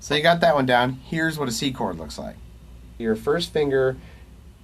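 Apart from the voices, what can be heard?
No distinct noise like a dog, phone or traffic.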